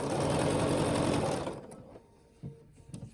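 A Bernina jumbo-bobbin sewing machine runs a straight stitch in a steady, fast whirring hum that lasts about a second and a half, then stops, followed by a couple of soft mechanical clicks.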